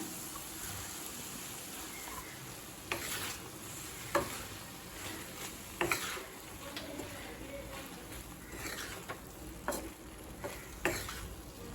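Cooked rice is stirred into a frying onion masala for onion rice, with soft sizzling broken by periodic spoon scrapes and clacks against the pan, while birds coo faintly in the background.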